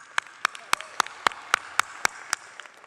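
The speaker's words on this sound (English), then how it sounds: "A round of applause for that film." Sparse, evenly spaced claps for a film at an awards ceremony, about ten sharp hits in under three seconds, fairly close and moderately loud with no talk over them.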